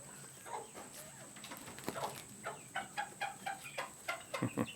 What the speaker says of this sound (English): Now just listen to the chickens.